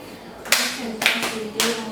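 A group plays a rhythmic concentration clapping game in a classroom-style setting, with three sharp group claps spaced about half a second apart and a voice murmuring between them.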